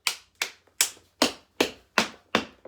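Seven sharp hand claps in a steady, evenly spaced rhythm during a children's tap dance warm-up, each clap crisp and close with a quick decay, heard alone without talking.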